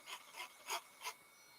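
Small hand saw cutting into a lock driver pin, four short rasping strokes at an even rhythm, close but quiet, with faint silence after the last stroke.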